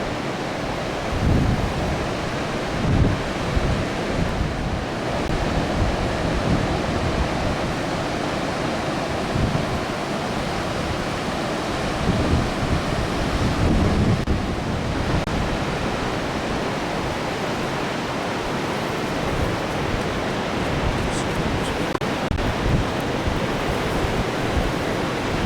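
Pacific Ocean surf rolls onto the beach at Lincoln City, Oregon, a steady broadband wash of breaking waves with a few louder swells, continuous and fairly distant with no voices.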